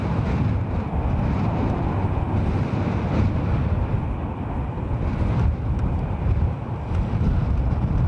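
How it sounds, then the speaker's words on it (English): Strong gusting wind battering a microphone at Dublin Airport, a loud continuous low rumble and buffeting roar filling the whole stretch without letup. "the wind is that strong, I'm having problems hearing the ATC in my headset"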